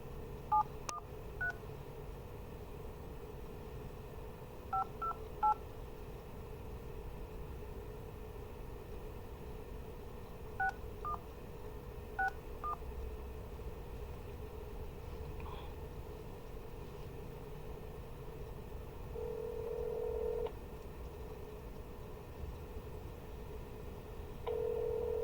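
A telephone number is dialed as DTMF touch-tones in several short bursts of beeps spread over the clip, fairly faint, over a steady low hum with no talking.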